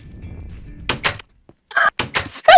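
A wooden door swinging open in Minecraft Skyblock, heard as a few short, close thunks in an otherwise quiet moment, with voices chattering and calling out right after.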